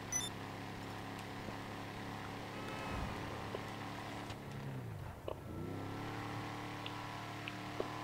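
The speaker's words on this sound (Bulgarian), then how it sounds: "Какъв звук хубав ми вади тоя камион направо." A truck engine in the video game GTA V hums steadily at moderate loudness throughout, with a brief dip in the middle before the drone returns.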